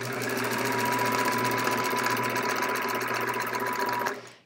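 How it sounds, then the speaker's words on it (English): Sewing machine running steadily while stitching straight quilting lines on a quilt border, a continuous even motor whir with rapid needle clatter that stops abruptly near the end. "Here I'm doing straight line stitching, just doing straight lines next to each other."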